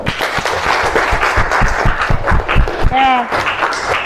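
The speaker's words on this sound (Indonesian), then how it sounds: "Kasih aplaus buat kelompok 1" An audience in a classroom session claps for a student group that has just presented, a brief burst of applause mixed with people talking over it.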